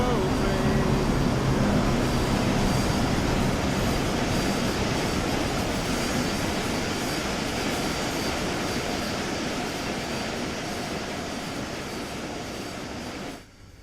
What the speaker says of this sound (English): Here's the musical train.